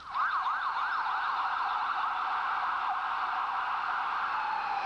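A wailing emergency siren sweeps up and down continuously by Foley Square in Lower Manhattan, loud and steady over faint traffic rumble, then settles into a sustained high tone.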